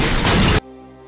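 A sudden loud explosion blast in a film scene, set off while a man examines a statue, hits at full force with dense broadband roar for about half a second, then cuts abruptly to a low lingering hum.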